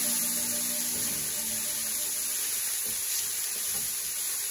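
Mixed vegetables fry in a hot pan of leftover rice for pork fried rice, giving a steady, close, continuous sizzle and hiss with no pauses and no talking.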